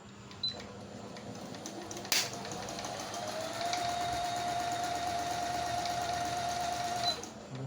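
A Singer Computer 7900 electric sewing machine stitches at steady speed, a close, continuous motor whir with a rising whine and a couple of sharp clicks at the start and end.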